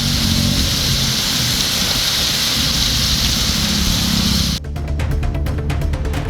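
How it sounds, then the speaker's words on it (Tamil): Heavy rain falls across the Coimbatore suburbs of Thudiyalur and Vadamadurai, a loud, continuous roaring downpour that cuts abruptly near the end into a sparser, pattering sound. "கோவை புறநகர் பகுதிகளான துடியலூர், வடமதுரை உள்ளிட்ட இடங்களில் கனமழை வெளுத்து வாங்கியது"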